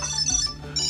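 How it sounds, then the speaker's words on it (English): A Tile tracker rings inside a purse, giving a short, bright electronic melody of high tonal beeps. It sounds close and moderately loud, with a brief pause before the tone resumes and no talking. "I'm ringing your purse."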